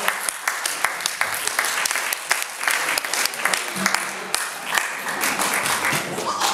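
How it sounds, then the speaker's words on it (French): Audience applause at a youth talent concert as a performer is welcomed onstage: dense, steady clapping from a crowd with sharper individual claps standing out, sustained at moderate loudness throughout. "Sur vos applaudissements, messieurs dames"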